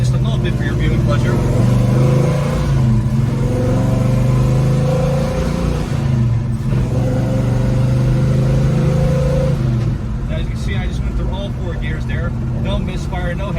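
A 1966 Chevrolet Chevelle SS with a 396 big-block V8 revs loudly and up close, rising and falling through several long, sustained pulls, with someone talking over part of it.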